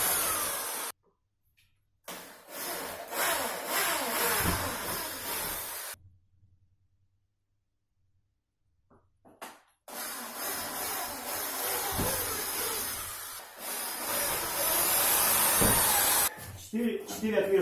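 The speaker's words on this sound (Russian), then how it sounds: "и сверлим отверстие." An electric drill whirs into a wooden desk leg in long, loud bursts close by, separated by stretches of near silence.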